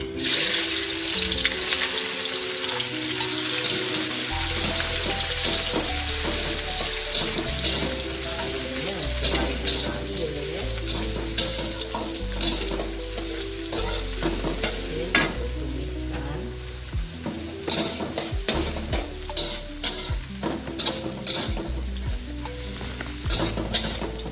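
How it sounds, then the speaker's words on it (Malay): Ingredients sauté in a hot pan for a bottle gourd and sea prawn dish, giving a continuous close sizzle broken by frequent stirring scrapes, with steady background music running beneath. "Kita tumiskan bahan-bahan dulu"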